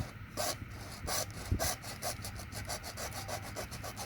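Rhythmic, raspy rubbing strokes against wood, repeating quickly and evenly, fairly close, with no talking.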